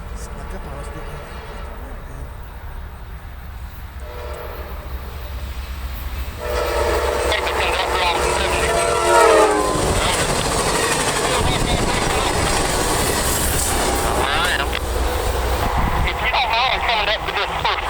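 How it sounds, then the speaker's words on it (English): Amtrak train 76, led by locomotive 1810, runs northbound on the Norfolk Southern main line at Harrisburg, North Carolina, rolling closer with a loud, sustained horn blast over rumbling wheels and engine noise. "Alright folks, Edgewater replica, Amtrak 76 coming."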